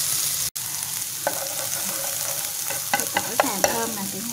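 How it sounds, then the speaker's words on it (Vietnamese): Chili and garlic sizzle steadily in hot oil in a pan while being stir-fried, with spatula scrapes and clacks against the pan becoming more frequent toward the end, close and without talk. "Tiếp theo mình sẽ cho cái phần ớt và tỏi vào mình xào vào cho thơm."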